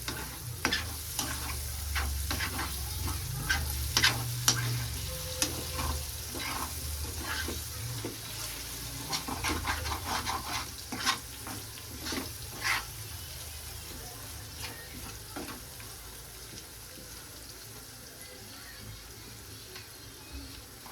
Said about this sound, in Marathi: आता याला थोडं ढवळून घेऊया थोडं खालून लागलंय आपल्याला एकदम ड्राय बनवायचं